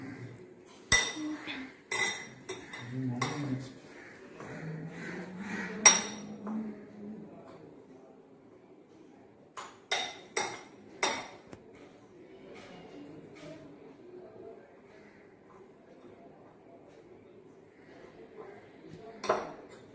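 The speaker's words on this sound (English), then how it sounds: "and mix it well" Sweet poha with grated coconut and jaggery being mixed in a dish, a series of sharp spoon-on-vessel clinks and taps in irregular bursts separated by quiet stretches, with faint low murmuring in the background.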